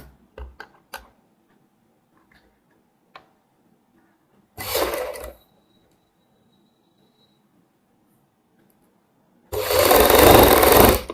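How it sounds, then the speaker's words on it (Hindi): Sewing machine stitching down the center of a strip for a kurti neckline, in two loud sustained bursts separated by quiet handling clicks and taps. "सबसे पहले हम इसमें सेंटर में सिलाई लगा लेंगे"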